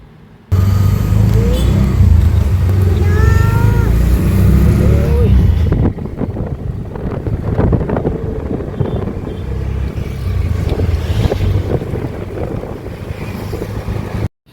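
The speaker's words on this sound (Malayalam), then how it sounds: "നമ്മളൊരു ഓട്ടോ പിടിച്ചിട്ട് നമ്മൾ വേറൊരു സ്ഥലത്തോട്ട് പോവുകയാണേ" Riding in a motorized auto rickshaw: a steady engine drone and rushing wind noise fill the whole ride, loud and close, with people talking over it.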